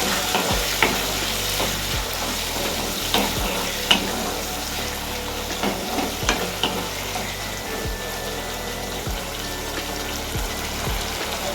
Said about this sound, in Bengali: দেন আমরা এর মধ্যে দেবো কেচাপ, অ্যান্ড দেন আগেন আমরা এটাকে মিক্স করে নেব।